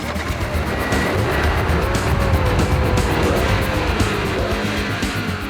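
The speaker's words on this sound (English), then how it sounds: "Here it's the brawny engine that really gets you sweaty." A BMW M3 convertible's inline-six engine, variable valve timing and drive-by-wire, roars steadily with a sustained loud drone and tire squeal.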